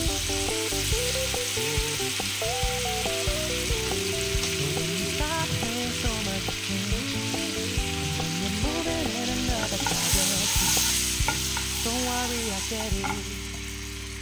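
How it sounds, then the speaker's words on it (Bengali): Butter and white oil fry in a pan for a white sauce pasta, giving a loud, constant sizzle and crackle close by, with stirring sounds mixed in and a little faint background noise. "প্রথমে হোয়াইট অয়েল দিয়ে দিলাম, তারপর দিয়ে দেবো আমি বাটার"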